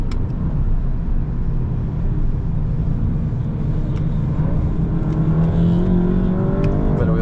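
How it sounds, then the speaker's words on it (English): A Mk8 VW Golf spinning its wheels while accelerating at a Lakeside Park track day, a loud continuous engine roar and rumble rising in pitch as revs climb, no talking. "Bit of wheel spin."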